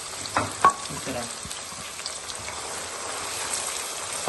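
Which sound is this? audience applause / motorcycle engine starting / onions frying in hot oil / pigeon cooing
onions frying in hot oil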